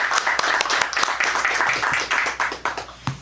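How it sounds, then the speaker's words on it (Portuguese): A church congregation claps and applauds together, a dense run of overlapping hand claps with sharp individual slaps standing out, fairly loud and continuous through the stretch. "Vamos aplaudir o Senhor Jesus."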